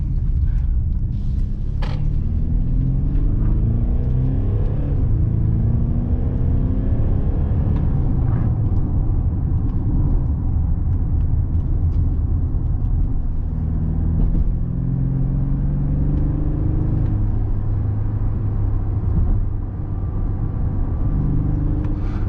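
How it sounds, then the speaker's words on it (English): Diesel engine of a 2023 Mercedes GLC 220 SUV droning steadily while driving, a loud continuous low rumble with shifting engine tones and no speech throughout. "all you hear is the diesel engine, and in Sport Plus it revs a bit higher to make more sportier noises"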